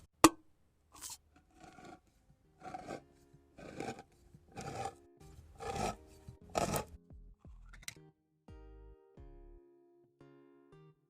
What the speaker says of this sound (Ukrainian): Зараз будемо думати з Маряною, як же відкрити цю банку.